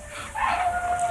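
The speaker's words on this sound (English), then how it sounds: "You'll have to excuse the dog, listeners, but he doesn't know we're on the radio." A seven-week-old Old English sheepdog puppy howls in a room during a radio interview: one thin, sustained, high-pitched wail that rises and then holds steady for about a second, fairly close, with no talk over it.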